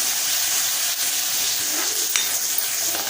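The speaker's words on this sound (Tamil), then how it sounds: "எல்லாமே தாளித்து ரெடியாகட்டும்" Green chilli, curry leaves and ginger sizzle steadily in hot oil as a tempering, a loud continuous frying hiss close up with no talking.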